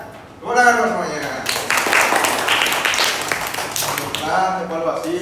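Children clapping together in a classroom lesson, a burst of busy hand claps starting after a teacher's voice and continuing under talk that returns near the end.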